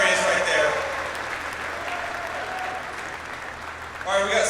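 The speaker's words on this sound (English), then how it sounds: "Give Brian a big round of applause." A large rally crowd in Holland, Michigan applauds Congressman Brian Mast, with steady, dense clapping and cheering throughout and a voice talking over it at the start and end.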